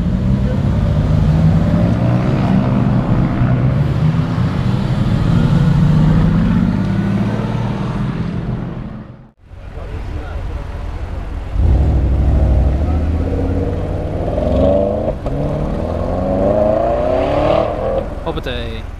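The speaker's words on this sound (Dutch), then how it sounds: "Dat zijn mooie auto's." Gumball 3000 rally cars driving at the Amsterdam Arena, a loud continuous engine roar with passing and revving vehicles, broken by a brief dip midway, while people talk over it.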